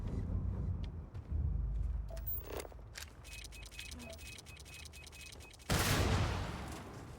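Scattered gunfire in the space game Starfield, a few sharp shots and bursts amid game effects, ending in a louder blast-like burst, no talk.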